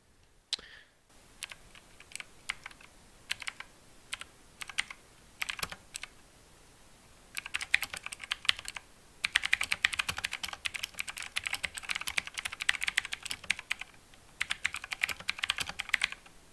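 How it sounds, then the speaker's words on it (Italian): Typing on a mechanical keyboard, sparse single key clicks at first, then dense rapid clattering bursts separated by brief pauses, close and fairly quiet with no voices. "Poi ho ricevuto una tastiera meccanica molto buona, ovvero questa, ragazzi."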